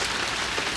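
Rain falling on a parked Chevrolet Traverse High Country while car camping, a dense, steady hiss of drops drumming on the vehicle with nothing else heard.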